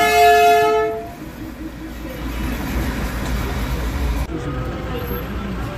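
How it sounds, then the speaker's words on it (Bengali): The Darjeeling toy train sounds a long horn toot close by, then rumbles and clatters past steadily for several seconds, with people talking faintly alongside. "আর পাশ দিয়ে যে টয় ট্রেন যাচ্ছে"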